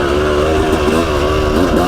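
A 1998 Yamaha YZ250 two-stroke dirt bike engine revs loud and close, a steady buzzing drone that rises and falls slightly with the throttle throughout.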